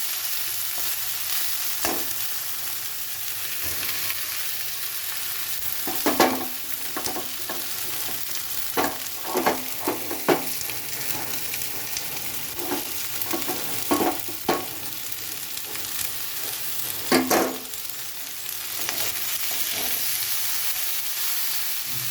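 Okra fries in a modest amount of oil with a continuous close sizzle, punctuated by scattered spoon scrapes and clatters as the pieces are stirred.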